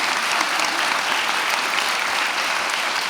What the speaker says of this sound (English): can we just give applause to these amazing women and